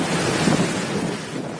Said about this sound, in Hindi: वहां पर तेज बारिश हो रही है